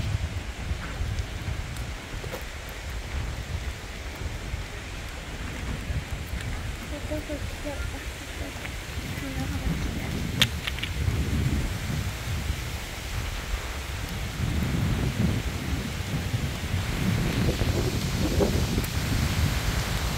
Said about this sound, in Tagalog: Wow, naririnig niyo ba yung tunog ng hangin?